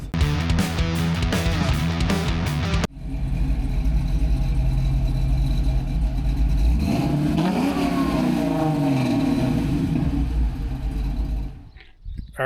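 Restored 1969 Camaro driving on a road, its engine giving a steady, loud drone with a brief surge as it accelerates, heard from inside with continuous road and wind noise, fading out at the end.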